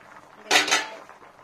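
A metal lid lifted off a pot of boiling potato, pea and paneer curry, one sharp clattering clink near the microphone, with a quiet bubbling background before and after.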